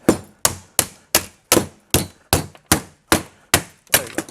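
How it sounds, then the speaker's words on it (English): A hammer strikes a speaker's metal magnet assembly eleven times in a steady rhythm while scrapping it, each sharp clang ringing briefly before the next blow, loud and close. "see if I can use a hammer and break it off"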